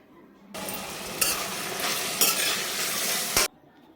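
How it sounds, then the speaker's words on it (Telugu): Onions sizzle in a pan with salt and turmeric for a mutton curry and are stirred, a loud burst of frying and scraping that starts abruptly, runs about three seconds, then cuts off. "ఇప్పుడు దీంట్లోకి టేస్ట్కి తగ్గ సాల్ట్, పసుపు వేసి ఒకసారి మళ్ళీ ఆనియన్స్ని అయితే ఫ్రై చేసుకోవాలి"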